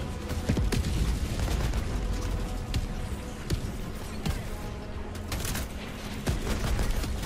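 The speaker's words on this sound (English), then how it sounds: "I'm getting shot from behind and I don't know what's shooting me." Gunfire from enemy Automaton units in the co-op shooter Helldivers 2, dense and continuous, with sharp shot transients and booms over a constant battle din. No voices are clear.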